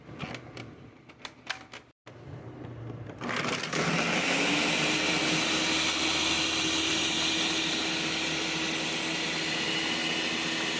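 Around two seconds of clinking ice and ingredients give way to a blender roaring up to a loud, sustained grinding whir while mixing a frappuccino with coffee; it stays steady to the end with no talking.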